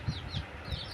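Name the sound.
hens clucking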